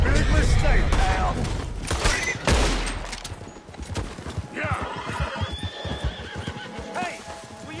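A horse neighs loudly in Red Dead Redemption 2, among hoofbeats, bursts of gunfire and voices, with a second whinny later on.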